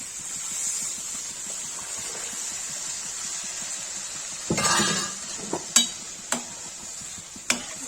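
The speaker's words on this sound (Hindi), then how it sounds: "इसमें दाल डाल देंगे।" Lentils poured into a hot, sizzling dhaba-style tadka spiced with garam masala: a steady frying hiss, a sudden splashing surge as the dal goes in, then a few sharp clinks of a spoon stirring against the pot.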